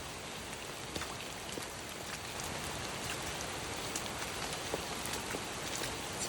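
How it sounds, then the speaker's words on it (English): Heavy rain pours steadily in a forest around a camping tent, a dense, even hiss of drops hitting surfaces all around with occasional louder splats. "It's absolutely pouring down."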